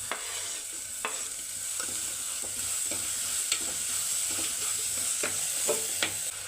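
Tomatoes and green chilies go into a hot pan for a Kerala sardine curry, a steady close sizzle broken by several sharp spoon scrapes and stirring clinks, with no voices.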